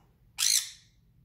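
A brightly coloured pet bird with yellow on its head gives one short, shrill squawk at close range, loud and alone against a quiet background.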